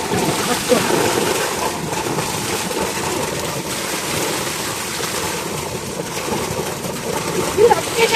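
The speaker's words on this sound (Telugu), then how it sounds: "ఇదే అయితే మనం కాయలు ఇప్పుడు కడగబోతున్నాం" Water gushes steadily from a farm borewell as freshly picked fruit is washed, a continuous splashing rush with wind buffeting the microphone and people talking over it.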